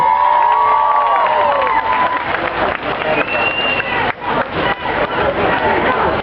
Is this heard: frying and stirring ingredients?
no